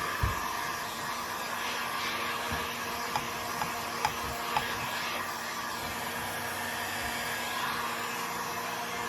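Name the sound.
heat gun drying paint on wooden sign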